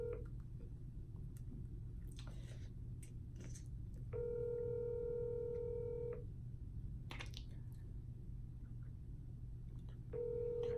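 A FaceTime call rings on a phone: two steady electronic ring tones, each about two seconds long, repeat with a gap between them over a low background hum, and a third tone starts at the end. No one speaks.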